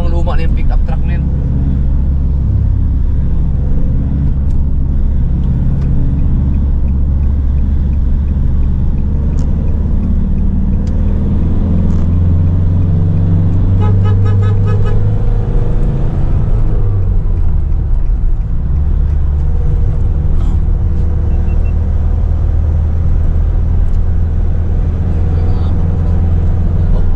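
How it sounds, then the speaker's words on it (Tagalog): An old pick-up truck's engine gives off a loud, steady low rumble that fills the whole stretch, with voices talking over it. "Lumang-luma na yung pick-up truck na yun."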